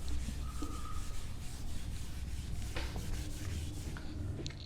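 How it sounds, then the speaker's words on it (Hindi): A board is wiped clean with steady, continuous rubbing, a close, even scrubbing that goes on throughout with no one speaking. "ओके, इसको मैं रब कर देता हूँ।"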